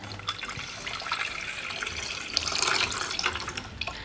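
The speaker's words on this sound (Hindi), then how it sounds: "और ये पानी डाल देते हैं इसके अंदर" Water poured from a tap or jug into a pot of dried dates set to soak overnight, a steady splashing, gurgling rush heard close up for a few seconds.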